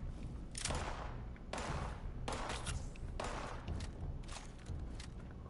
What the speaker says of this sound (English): I need all you guys to stop shooting me.